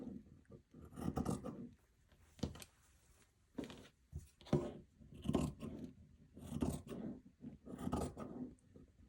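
Scissors trimming the bulky side seam allowances of a sewn garment, a series of short crisp cutting snips in bursts, close and fairly quiet, with no talking.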